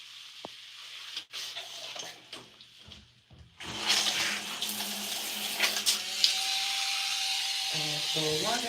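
A tap runs into a sink during a hair-washing routine. Quieter handling and clatter come first, then the flow switches on and keeps going as a steady, close rush, and a short tone rises over it near the end.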